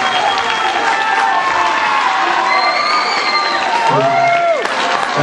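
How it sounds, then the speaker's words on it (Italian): A live comedy show audience in Milan clapping and cheering, loud and sustained applause with shouts and whoops mixed in. "Un applauso, forza, più forte."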